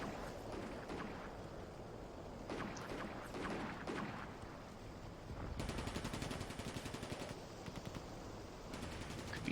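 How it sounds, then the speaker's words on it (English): Gunfire in the Combat Mission: Barbarossa to Berlin video game, set in the Stalingrad suburbs: steady, fairly quiet bursts of rapid, repeated shots, with a longer rattling stretch near the end and no talk. "Could be a sniper who's firing here somewhere."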